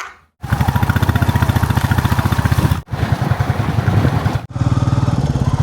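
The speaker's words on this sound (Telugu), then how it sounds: "మేమైతే 2 బైక్స్ మీద 5 అయితే వెళ్తున్నాం" Two motorcycles carrying five riders travel along a road, with a loud, close, rhythmic engine putter that cuts out briefly twice and resumes.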